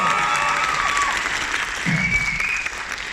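Convention panel audience at Comic Con Liverpool breaks into sustained applause, a dense wash of clapping from a large crowd in a hall, with a little cheering mixed in.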